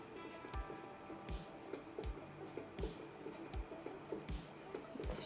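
Water being drawn off a clay pot spinning on a pottery wheel, heard as a steady run of soft wet drips and squishy plops, roughly two per second, close and fairly quiet with a faint hiss behind.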